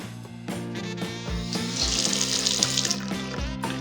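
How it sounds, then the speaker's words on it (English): Water runs from a tap to refill a Tower Garden reservoir, a steady close splashing stream that grows fuller and brighter midway, with a few soft knocks and clunks underneath and no speech. "One water refill coming right up."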